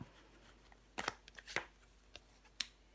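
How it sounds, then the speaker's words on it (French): A tarot card laid down over another on a table during a reading: a few quiet, brief slaps and papery taps close by, clustered with short gaps, no talk. "Je vais recouvrir ce cavalier de bâton."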